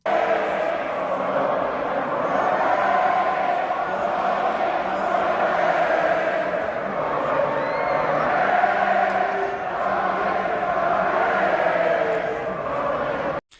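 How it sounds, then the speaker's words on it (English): Wrestling arena crowd roaring in reaction to Roman Reigns, a sustained loud wall of cheers, shouts and whoops from a large audience, steady throughout before cutting off abruptly. "you listen to that reaction that Roman Reigns is getting there"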